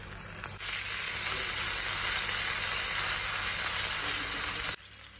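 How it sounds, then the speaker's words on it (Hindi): Beef seekh kebabs fry over a medium flame in a steady, close sizzle with a constant oil hiss that runs alone for several seconds before stopping abruptly. "अब इसे हम 5 मिनट फ्राई करेंगे मीडियम फ्लेम पे।"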